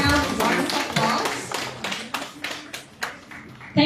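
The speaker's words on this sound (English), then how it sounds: "Big round of warm applause." A live audience at a Philippine tourism launch claps in a warm round of applause, with discrete sharp claps gradually thinning out over several seconds, heard close and fairly loud.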